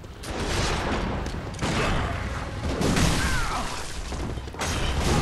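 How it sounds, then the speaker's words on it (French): Blunderbuss fire and combat in the Bloodborne video game: loud, dense booming blasts and crashing impacts run continuously in a thick wash of noise, with brief dips between volleys. "Mais arrête avec ton tromblon des enfers"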